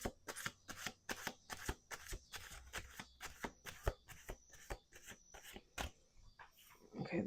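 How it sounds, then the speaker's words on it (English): Tarot cards being shuffled over and over in quick bursts of crisp riffling slaps and flutters, close up, with brief pauses between shuffles and no talking. "Let's do 2 more shuffles."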